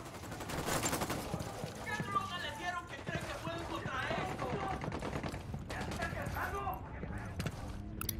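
Rapid gunfire from the Ghost Recon Wildlands game rattles on continuously as a dense, busy battle layer, with a voice talking over it throughout.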